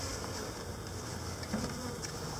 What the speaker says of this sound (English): Bees are finding pollen.